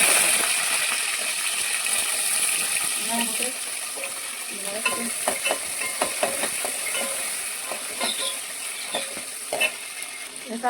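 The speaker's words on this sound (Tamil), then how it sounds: "எண்ணெய் ஊற்றி வெந்தயம் போட்டு போட்டு" Fenugreek seeds fry in hot oil for a prawn curry with drumstick, giving a steady close sizzle with scattered small crackles and light stirring clicks, and no voices.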